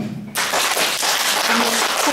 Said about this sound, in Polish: Powinnaś dostać wielkie brawa!